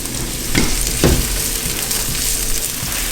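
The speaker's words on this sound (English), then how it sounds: "Now we're going to get the mushrooms and the onions into the pan" Mushrooms and onions sauté in a pan with a steady, close sizzle, broken by two sharp utensil knocks early on and a few softer taps later.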